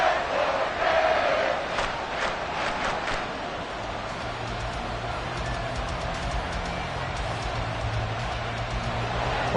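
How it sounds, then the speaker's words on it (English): A stadium crowd roars in the football video game Madden 24 during a Bills at Dolphins matchup, a loud sustained wash of cheering with a low droning horn-like tone joining partway. "this crowd making it hard to hear"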